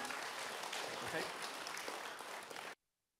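A concert audience bursts into loud, steady applause to welcome a singer at her solo charity concert at the Sydney Opera House. The dense clapping fills the clip for almost three seconds, then cuts off abruptly into silence.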